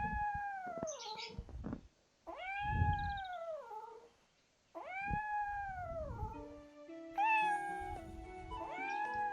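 A cat in a cat-raising video game gives several long, drawn-out meows and wails close by, four or five rising and falling cries separated by short pauses, with a brief chime near the end.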